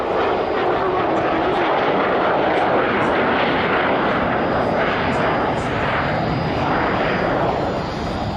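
Hawker Hunter jet passing along the runway at the Dunsfold airshow, a loud sustained roaring rush of engine noise filling the whole stretch, steady and near, with crowd and commentary ambience under it.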